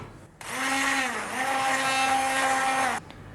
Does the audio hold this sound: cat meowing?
no